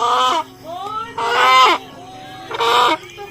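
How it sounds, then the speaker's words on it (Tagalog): A chicken squawks loudly while being caught, giving three harsh, strained calls with short gaps between them. "Huli tayo ng manok."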